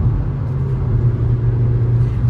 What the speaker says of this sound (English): The revs, well, 4000. It gets quite vocal. You can hear the noise from the engine.